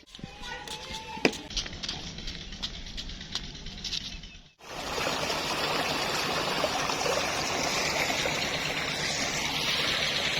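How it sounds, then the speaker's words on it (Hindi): Water pouring steadily from a running bore pump outlet onto a fodder field, a dense continuous rush that dominates the second half after a brief quieter stretch with light patter and faint voices. "और चारे को पानी लगा हुआ है"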